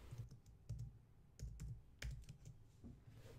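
Clicky keystrokes on a computer keyboard, typing a search term into Cricut design software, come as short irregular bursts of taps, fairly close and quiet, with no talking.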